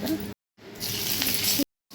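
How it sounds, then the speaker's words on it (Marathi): Seeds sizzling on a hot tava while dry onion bhaji is prepared, a close, steady crackling hiss in two bursts separated by short silent gaps. "तवा गरम होतोय टाकूया तवा जिरे टाकूया"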